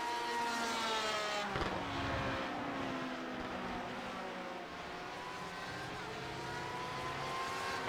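Race cars, a Porsche among them, roar around Circuit de Barcelona-Catalunya in a sim racing endurance game, engines whining and shifting pitch continuously as they pass, with a quiet voice faintly underneath.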